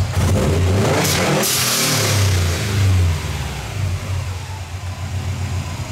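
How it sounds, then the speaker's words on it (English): A car engine revs hard, then drops back toward a rough idle, with a sharp hiss from a GFB blow-off valve venting early on. It is loud and close, and no voices are heard. "we're going to go ahead and hard rev it and see where we're at after it comes back to idle"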